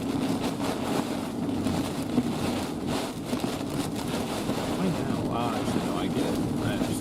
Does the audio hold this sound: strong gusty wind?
yes